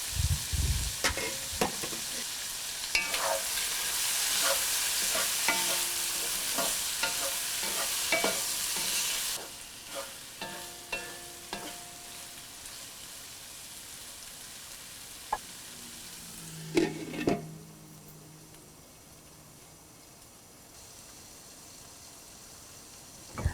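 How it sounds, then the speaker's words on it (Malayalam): Prawn masala cooking in a pan for a shrimp and tapioca biryani, with repeated scraping stirs over a steady sizzle that becomes quieter and sparser later in the clip. "7 മിനിറ്റോളം അടച്ചു വെച്ച് വേവിക്കണം. ഇടയ്ക്കിടെ ഇളക്കി കൊടുക്കണം."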